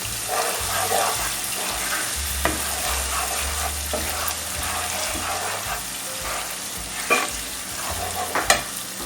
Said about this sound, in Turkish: Yavaş yavaş böyle kavuruyoruz.